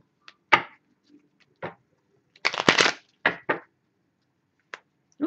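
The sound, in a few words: shuffling tarot cards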